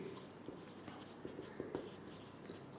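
Marker or chalk scratches on a board during a chemistry lecture, quiet irregular strokes and taps in short bursts, faint and close with a room hum beneath.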